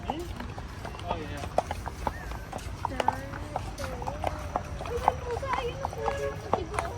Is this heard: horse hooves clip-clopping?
yes